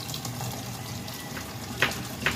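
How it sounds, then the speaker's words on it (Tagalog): A little water is poured into a pot while cooking Filipino bamboo shoot stew, a steady running splash at close range with two brief brighter splashes near the end. "Konting tubig lang guys kasi"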